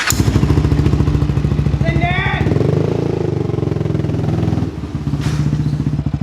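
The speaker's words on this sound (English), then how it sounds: "Zach's gonna try and do a wheelie with the gym weight ATV tires" ATV fitted with gym weight wheels revving hard for a wheelie, a loud, close, rough engine drone that rises and falls, with clattering and a voice briefly over it.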